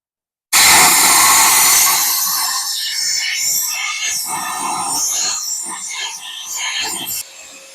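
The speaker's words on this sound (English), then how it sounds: "I'm just going to apply air pressure, and it should blow all of that metal out" Compressed air blasts from a nozzle into a Ford engine's spark plug hole to clear out metal debris, a loud, close, steady hiss that starts abruptly and fades slightly before cutting off.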